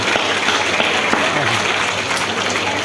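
A crowd at an election meeting in Poonch claps loudly and continuously to welcome Rajnath Singh, a thick, even roar of applause filling the brief moment.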